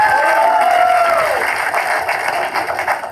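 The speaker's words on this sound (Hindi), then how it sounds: "एक बार जोरदार तालियां अंकित शर्मा के लिए" Applause and cheering from a live comedy talent-show audience for a performer, a dense, loud roar of clapping and crowd noise that holds steady for about three seconds before easing slightly, with a few brief whoops near the start.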